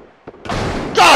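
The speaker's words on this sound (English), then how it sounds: "Genocide grenade!" A video game grenade goes off with a sudden thud, a booming rumble, then a louder, brighter blast near the end, close and dense with no voice over it.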